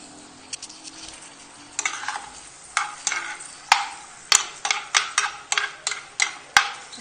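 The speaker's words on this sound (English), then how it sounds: "And find something to stir these onions with." Onions sizzle in a pan while being stirred for a Moroccan tajine, a steady close frying hiss broken by repeated scraping clicks of the stirring utensil, with no talk.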